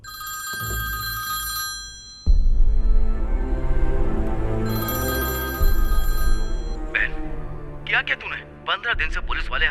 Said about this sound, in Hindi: अपने भाई को फोन लगाकर बात करो।